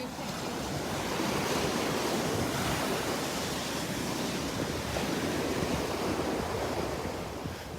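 Small ocean waves wash onto the beach at Delnor-Wiggins in a steady, broad hiss of surf with light wind, no voices.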